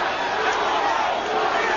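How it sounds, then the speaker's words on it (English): A boxing arena crowd roars in a continuous loud wash of cheering during a late round of a Roberto Duran vs Iran Barkley fight, with no distinct breaks. "Crowd trying to pump up Duran."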